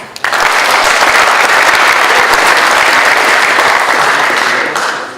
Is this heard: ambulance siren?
no